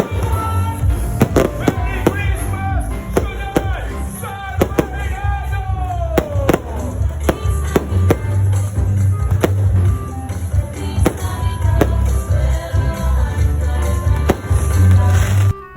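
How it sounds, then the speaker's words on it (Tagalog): Fireworks burst repeatedly, sharp cracks and booms in quick irregular volleys over a low rumbling crowd, with whistling streaks between explosions. "sinindihan naman nila itong napakagandang fireworks"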